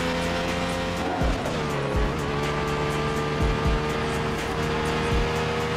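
Race cars in Midnight Club 3 slide through corners, tires squealing in several sweeping bursts over a constant high-pitched engine whine, near and loud.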